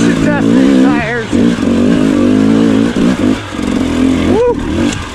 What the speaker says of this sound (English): You can actually hear me talking over the bike.